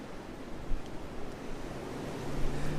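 Cold wind blowing outdoors during plastic welding, a steady broadband rushing roar buffeting the microphone, rising slightly toward the end, loud and close with no talk.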